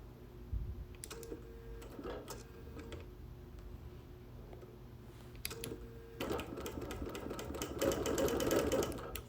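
A sewing machine quilts through wool, stitching around an antler design; its rapid stitching runs steadily throughout, close and clear, building louder near the end.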